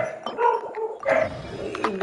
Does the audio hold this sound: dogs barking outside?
yes